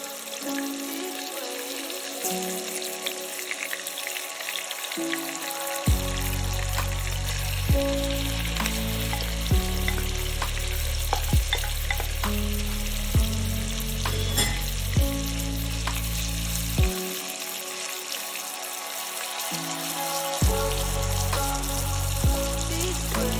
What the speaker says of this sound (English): This step is just to seal in the flavors and coat the shrimp with all those delicious spices